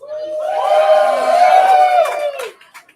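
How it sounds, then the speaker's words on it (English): A crowd of Houston Astros fans before an ALCS Game 6 against the Rangers lets out a loud sustained cheer and whoop, swelling and holding for about two seconds before breaking off into scattered shouts. "we got a big ruckus crowd here"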